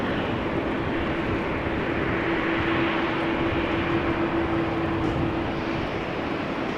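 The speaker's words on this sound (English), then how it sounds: "This is Air France flight 1241. Also going to Paris, A220-300. This one does seem to be continuing to the runway." An Air France Airbus A220-300 airliner taxis toward the runway at rainy Amsterdam Schiphol, its engines giving a steady, loud jet roar with a faint sustained hum layered in, heard alone without talking.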